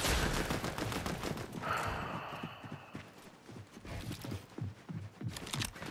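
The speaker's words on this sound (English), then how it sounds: "there's another team shooting at you" Rapid bursts of video game gunfire crackle in dense, repeated volleys over a busy, noisy battle mix, loud and continuous throughout with no voices.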